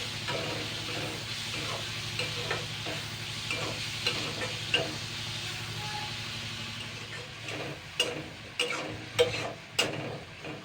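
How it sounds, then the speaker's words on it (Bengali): Prawns fry in a pan with a steady, moderate sizzle and hiss, joined toward the end by several sharper stirring scrapes and clatters. "চিংড়ি মাছগুলো আমি ভালো করে ভেজে নেবো"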